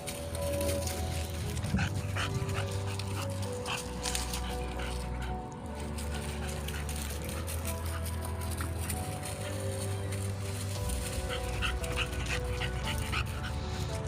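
An 11-month-old female dog outdoors, giving soft whimpers and small yips over a steady low hum and constant background noise throughout.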